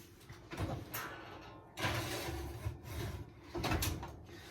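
Quiet, close kitchen handling sounds: a few soft scrapes and slides followed by a muffled bump as an oven door swings shut on a pizza, with no voices.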